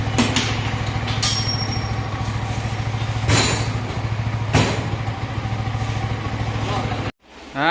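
Yamaha R15 V3 motorcycle engine running at a steady idle after bearing repair, a close, constant low drone with a few sharp knocks and bursts over it, cutting off abruptly near the end.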